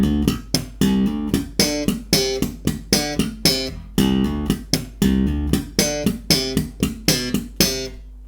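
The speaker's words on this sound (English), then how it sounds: "this time it's a 2-bar riff that very slowly sounds like this" A slow two-bar slap bass riff plays alone, evenly plucked and slapped notes repeating in a steady pattern, close and clear.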